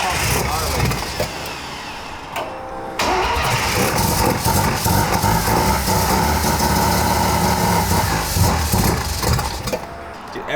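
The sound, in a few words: car engine revving as accelerator is pressed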